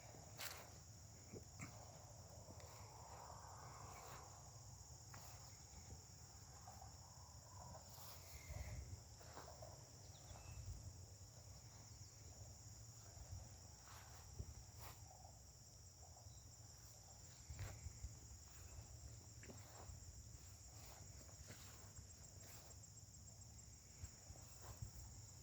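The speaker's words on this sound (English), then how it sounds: "A lot of bugs up here though, since we're next to the lake, Lake Arthur." Crickets and insects chirp steadily near Lake Arthur at a cemetery, a faint continuous high trill over a low outdoor hum, with occasional soft clicks or footsteps.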